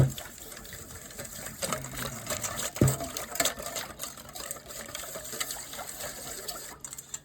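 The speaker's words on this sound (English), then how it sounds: "So we're just going to give it a good whisk and a good mix." Beef jerky marinade gets a vigorous whisk and mix in a bowl, giving a steady, busy wet clatter and sloshing of liquid up close, with a faint voice in the background.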